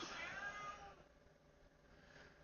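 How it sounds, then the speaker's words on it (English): A cat in heat lets out a faint drawn-out yowling meow that fades within a second, leaving only a low background hum. "can I hear a cat?"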